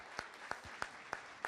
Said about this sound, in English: why don't we give Scott a round of applause, too